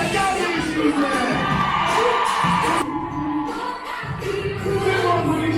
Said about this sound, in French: Allez, applaudissez-la, applaudissez-la